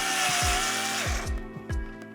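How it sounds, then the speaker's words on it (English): A power drill bores a hole through an aquarium, a loud continuous grinding whine broken by short low thumps, then easing off into quieter intermittent bursts toward the end. "So let's drill one hole over here."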